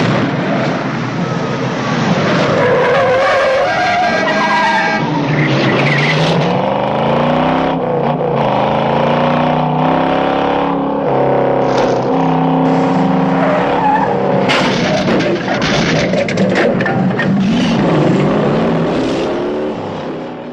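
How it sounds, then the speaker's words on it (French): Dodge Charger and Ford Mustang in the Bullitt car chase through San Francisco streets: loud, continuous revving V8 engines with repeated tire squeals and skids, engine pitch sweeping up and down, no talk. "c'est avant tout pour cette scène de poursuite mythique, réalisée sans aucun trucage dans les rues de San Francisco"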